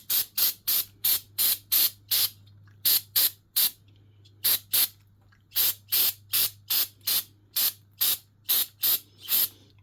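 Brake cleaner sprayed onto a Kohler engine carburetor on a Husqvarna mower, about twenty short, sharp aerosol bursts in quick rhythmic groups, close and loud over a low steady hum.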